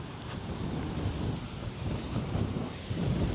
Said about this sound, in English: Absolute storm coming in.